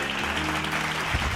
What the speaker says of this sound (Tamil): கைத்தட்டுங்க ஒரு ஆள்